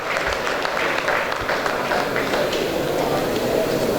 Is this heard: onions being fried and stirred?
no